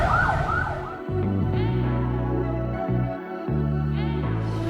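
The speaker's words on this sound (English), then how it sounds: "Sirens." Sirens wail nearby on a Kuala Lumpur city street, loud and continuous, their pitch sweeping up and down over a steady background hum.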